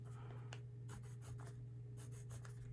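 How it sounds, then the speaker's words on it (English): The side of a pencil shades yellow sunlight onto paper in strokes that rasp softly and repeatedly. The scratching is faint and close, over a steady low hum, and nobody speaks. "I like to use the side of my pencil for that."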